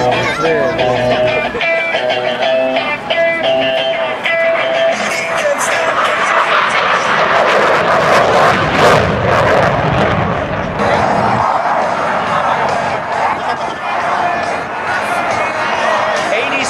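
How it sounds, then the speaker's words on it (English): F18 jet at an air show at Andrews Air Force Base, both GE engines in full afterburner as it climbs straight up, giving a loud sustained roar that swells and rumbles under an announcer's voice and crowd noise. "Look at both of those GE engines in the full afterburner flying straight up into the vertical."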